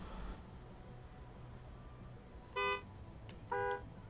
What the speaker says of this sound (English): I just took a shipment of novelty horns.